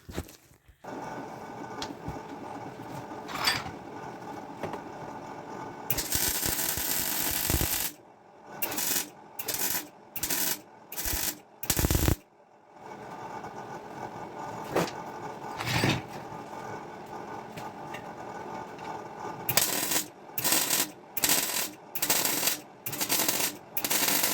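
Welding a bracket onto a 1996 Daihatsu Fourtrak 4x4 farm truck: a long crackling buzz of the welder, then a string of short, loud tack bursts with gaps between, close up and without talk.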